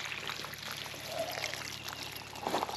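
Water poured by hand onto soil above a French drain, a steady splashing trickle with faint gurgling that swells slightly near the end, heard close and alone.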